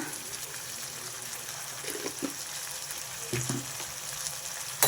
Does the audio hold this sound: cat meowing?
no